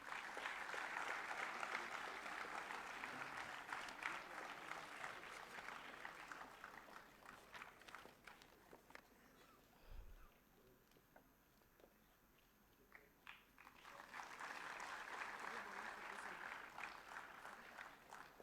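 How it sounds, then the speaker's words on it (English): Audience applause at a student engineering award ceremony, broad clapping that dips into quieter murmuring midway before swelling again to a strong finish. "please give a big round of applause to all the Chhatra Vishwakarma Award winners"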